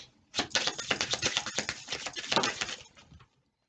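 A quick flurry of soft, papery clicks and riffles as tarot cards are shuffled close by, lasting a few seconds, then stopping.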